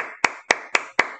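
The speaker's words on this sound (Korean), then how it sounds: "박수 쳐야 되겠어" One person clapping hands at close range during an online tutoring lesson, five sharp, evenly spaced claps at a steady rhythm, each with a brief ringing tail.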